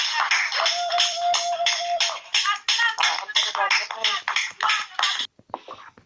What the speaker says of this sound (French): Acclame le roi des rois